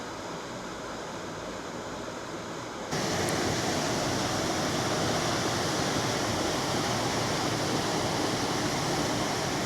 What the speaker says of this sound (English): There's just kind of turbulence in the water and a lot of noise from this thing